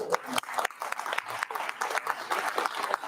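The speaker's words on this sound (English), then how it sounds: "yes, a round of applause" A round of applause from the audience at a farewell event, steady clapping that fills the room with a few sharper claps standing out, close and moderately loud throughout.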